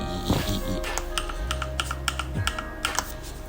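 Typing on a computer keyboard at close range, a quick irregular patter of key clicks over about three seconds with a low hum underneath.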